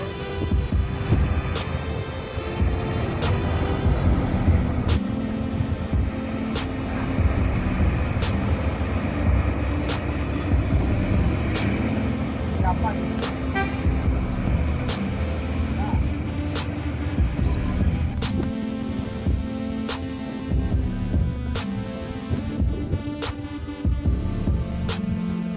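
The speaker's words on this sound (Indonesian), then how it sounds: "Ini bus NPM yang keempat keluar Terminal Balai Solok." An NPM bus pulls out of the Balai Solok bus terminal, its diesel engine rumbling steadily under busy terminal ambience, with sharp repeated clicks and knocks and faint voices in the background.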